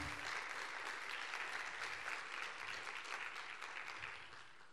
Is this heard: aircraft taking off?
no